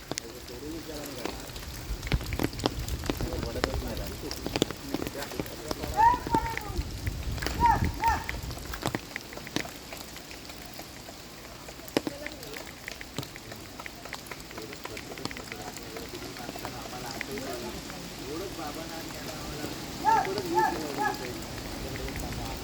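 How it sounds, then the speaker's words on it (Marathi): Monsoon rain falls steadily, heard from under an umbrella as a soft, continuous patter with scattered sharper drops and thumps, while someone talks over it. "वातावरण एकदम पावसाळी झालं आहे. पाऊससुद्धा चालू आहे."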